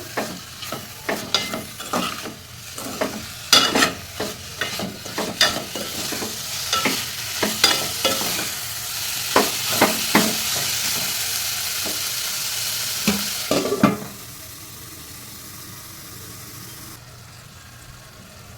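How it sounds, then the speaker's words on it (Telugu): Amaranth leaves with chili powder, salt and turmeric frying in a pan, with loud sizzling and repeated scraping stir strokes; the sound drops to a softer, steady sizzle for the last few seconds. "ఇప్పుడు మనం వేసుకున్న కారం ఉప్పు పసుపు ఏదైతే ఉందో తోటకూరకి అంతా పట్టేలాగా కలుపుకొని మూత పెట్టేసి ఒక నిమిషం పాటు ఫ్రై అవ్వనివ్వాలండి"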